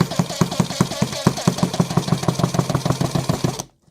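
An AEG BSS 18 OP cordless impact driver drives a screw with a rapid, steady series of hammering blows that rattle the table beneath it, loud and close, then cuts off abruptly at the end.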